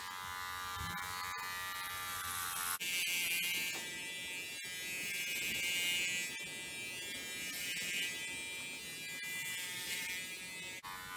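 Electric hair clippers fitted with a grade 3 guard buzz steadily and close up while shaving the top of a head, the whine brightening as the blades cut into hair, with no talking.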